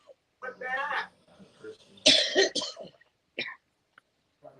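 A person coughs and clears their throat in short bursts between stretches of conversation in a live on-air setting.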